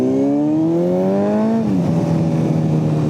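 A motor vehicle revs up at close range, its engine pitch climbing steadily for about a second and a half before dropping and settling into a steady, lower drone as it pulls away to race.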